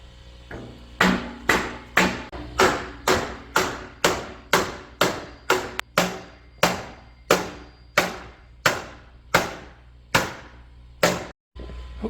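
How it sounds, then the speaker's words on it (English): A rubber dead blow hammer drives a schedule 40 PVC pipe onto a snow plow blade in about fifteen steady, evenly spaced blunt knocks, close and loud with no talk. "So now I'm just using a hammer, rubber hammer, dead blow"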